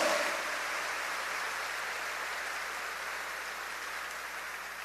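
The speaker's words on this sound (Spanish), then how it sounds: "Un aplauso para el Señor." A congregation at a Mass of prayer for the sick breaks into broad applause that starts strong and slowly thins out, a dense, even wash of clapping with no talk.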